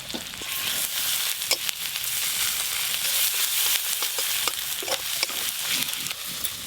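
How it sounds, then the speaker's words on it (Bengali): Chopped onion and ginger-garlic paste fry in hot oil with a steady, bright sizzle, broken by the scrape and clatter of stirring, close up and without speech. "ওই একই তেলে দিয়ে দেবো পেঁয়াজ কুচি, আদা রসুন বাটাও দিয়ে দেবো"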